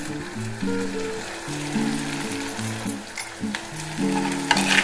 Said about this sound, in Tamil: நல்லா வதங்கட்டும் கொஞ்சம் உப்பு போட்டிங்கன்னா சீக்கிரமாக வதங்கிடும்